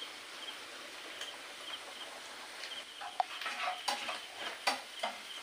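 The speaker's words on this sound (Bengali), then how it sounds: "দেখুন এগুলো ভাজে ভাজে হয়ে যাচ্ছে প্রায়" Duck eggs fry in a pan while dal is being cooked, with a soft, steady sizzle and occasional light clinks of stirring near the end.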